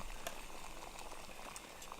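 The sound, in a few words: water boiling in pot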